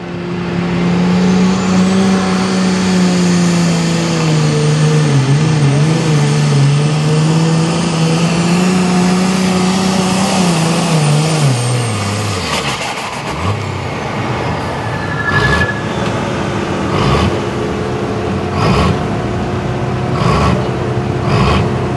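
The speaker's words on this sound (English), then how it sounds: "Building RPMs in the far lane." A Ford tractor at a truck and tractor pull in Harrisonburg, Virginia revs hard in the far lane, a loud sustained engine roar whose pitch climbs and wavers before breaking into rougher pulsing bursts.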